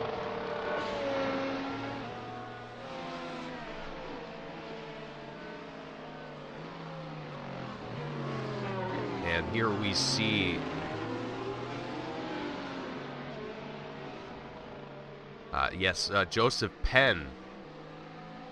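Formula 1 race cars from F1 Challenge circle Hockenheim behind the safety car, their engines droning and shifting pitch steadily as they pass, with some sharper revving near the end, all under continuous commentary.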